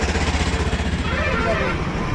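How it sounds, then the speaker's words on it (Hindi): A homemade jugaad cart fitted with a generator engine chugs in a fast, even rhythm close by, the small engine's putter steady throughout. "इस जुगाड़ गाड़ी में इन मजदूरों ने जनरेटर का इंजन लगाया है"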